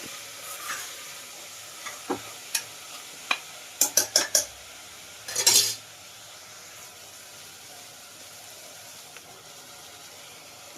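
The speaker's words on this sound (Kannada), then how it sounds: "ಎರಡು ಮೀಡಿಯಮ್ ಟೊಮೆಟೊ ಹಾಕ್ತೀನಿ ಇದೆಲ್ಲ ಹಸಿ ಸ್ಮೆಲ್ ಹೋಗಿ ಚೆನ್ನಾಗಿ ಸ್ವಲ್ಪ ಫಿಫ್ಟಿ ಪರ್ಸೆಂಟ್ ಫ್ರೈ ಇದು" Tomatoes cook in a pot for vegetable pulao under a faint hiss, punctuated by a series of sharp spoon clinks and scrapes against the pot, several in quick succession, then a quieter stretch.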